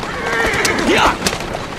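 A horse in the video game Assassin's Creed Syndicate gives a loud, close whinny lasting about a second, with hoof clip-clops around it.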